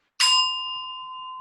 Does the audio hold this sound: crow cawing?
no